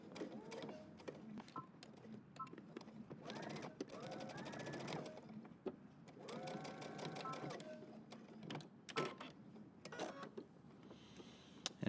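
Faint sewing machine stitching a folded edge on a jeans jacket, short whirring runs of needle strokes separated by pauses, with a voice talking in between.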